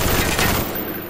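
A brief, loud, dense burst of automatic gunfire in a 4v4 MLG variant match on a firing range map in a video game.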